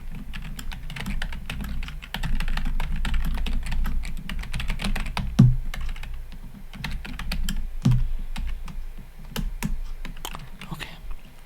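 Close computer keyboard typing in a quiet room, a continuous flurry of soft rapid key clicks with a couple of heavier thuds, steady and intimate with no voice.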